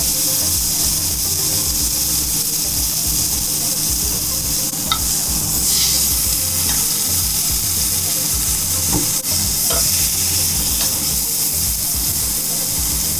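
A beef fillet sears in a hot pan for Beef Wellington, giving a loud, steady sizzle and hiss that runs throughout, with a few faint clicks and scrapes on top and no talking.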